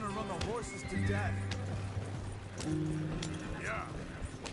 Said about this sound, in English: You're gonna run the horses to death.